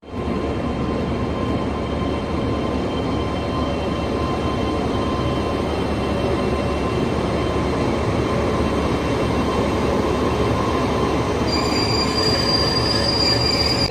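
Mysore Weekly Express passenger train hauled by a KJM Krishnarajapuram shed WAP7 electric locomotive, rolling steadily past with loud continuous wheel and rail noise and squealing wheels, no voices.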